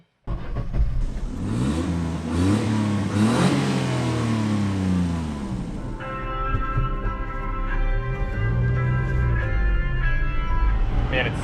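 A Daihatsu Hijet mini truck's small engine cranks, catches and revs, rising and falling in pitch before settling into a steady, close idle hum that runs to the end.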